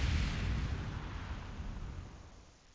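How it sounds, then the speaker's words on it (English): A root explodes in a video game with a deep, rumbling blast that starts loud and slowly decays into a fading low roar over a few seconds, with no talking. "now the root's gonna explode."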